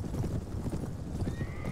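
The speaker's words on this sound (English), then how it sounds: "Oh good, they're on horses." Galloping horses in the medieval combat game Mount and Blade: Warband, a steady, dense run of hoofbeats at close range, continuous and fairly loud, with no talking over it.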